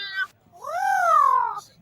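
A cat gives a long, rising and falling meow, loud and close, preceded by a brief shorter vocal sound.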